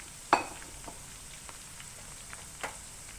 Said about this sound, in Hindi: अच्छी तरह से यहाँ पे आपने भिंडियाँ जो है उनको फ्राई कर लेना है